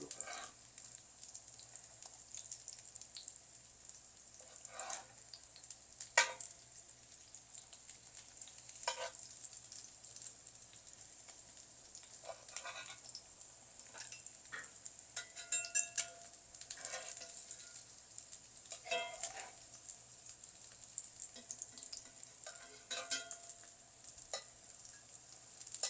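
Salmon croquettes fry in a pan, a steady soft sizzle running throughout with occasional louder pops and crackles, close by and with no talking.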